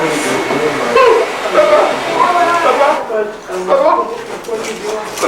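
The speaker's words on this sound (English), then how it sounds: "he's vacuum cleaning your room" A vacuum cleaner runs in a room with a steady, fairly loud whirring drone beneath people talking nearby. The motor noise cuts off partway through while the conversation continues.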